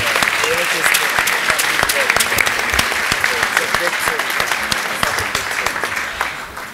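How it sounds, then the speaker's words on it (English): A large audience gives a loud, sustained round of applause honouring a football legend, dense clapping close up that stays strong throughout with only a slight easing at the end. "ladies and gentlemen, give a big round of applause for the true legend."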